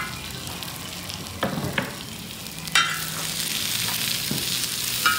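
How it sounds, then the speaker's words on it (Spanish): Onion and garlic frying in a pan for sopa azteca, a soft continuous sizzle broken by a few sharp stirring knocks and scrapes, close by and without talk. "Una leve acitronada a la cebolla y al ajo para que agarre buen sabor"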